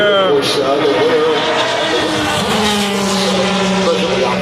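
Race cars roar past at Indianapolis Motor Speedway, a loud rising and falling engine whine sweeping by close, while someone talks over the noise.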